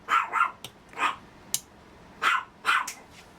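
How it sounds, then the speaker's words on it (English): Indoors, a pet dog lets out a string of sharp barks, about six in irregular bursts with short gaps between them, close and moderately loud. "there goes my dog."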